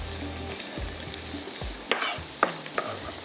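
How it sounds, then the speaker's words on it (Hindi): Chopped onions sizzle and fry in hot oil in a home kitchen pan, a steady close crackle with a few stirring clinks and scrapes and no talking. "मैं सिर्फ प्याज डाल दूँ ताकि इतनी देर में प्याज हमारा फ्राई होगा"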